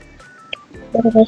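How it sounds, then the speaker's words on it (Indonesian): A phone notification chime rings out near the end: a short run of bright, electronic tones that starts after a quiet stretch with a small earlier blip. The tones land close and fairly loud. "maaf guys kalau ada notifikasi gitu."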